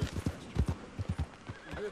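Horse hooves clip-clop in a quick, uneven rhythm in Red Dead Redemption 2, close and fairly loud, ending with a short whinny near the end.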